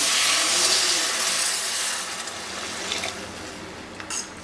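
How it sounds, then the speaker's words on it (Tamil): Steady hissing rush of water being poured into a pot of egg curry, loud and close, tapering slightly with a few sizzling bursts near the end. "இப்போ குழம்புக்கு தேவையான அளவு தண்ணி வந்து ஊற்றிக்கலாம்"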